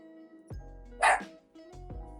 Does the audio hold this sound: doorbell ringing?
no